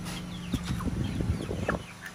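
A hen clucks and squawks close by in a series of short, irregular calls, loud and uninterrupted by speech.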